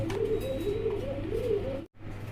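Fancy helmet pigeons coo nearby in a soft, repeated rolling rhythm, several low warbling calls in a row before a brief break, with no talk.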